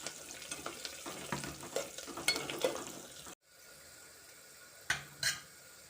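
Gongura leaves with dried shrimp and curry leaves frying in a pan, a steady close sizzle with irregular stirring scrapes and clinks, a brief hush partway through, then a couple of sharp utensil knocks.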